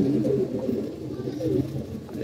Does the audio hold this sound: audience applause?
no